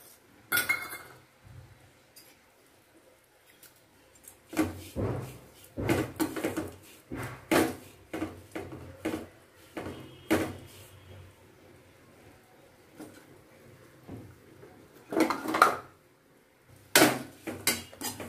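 Metal pan and utensils knock and scrape in bursts while coconut dry-roasts, with clinks and clatter spread over the stretch and some quiet gaps between.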